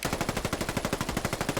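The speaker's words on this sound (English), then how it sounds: "Let's see how you do with a fully equipped automatic rifle." Sustained fully automatic fire from a QBZ-191 Chinese assault rifle in Fallout 4, a rapid even stream of about twenty-five punchy shots in under two seconds, loud and close with no voices.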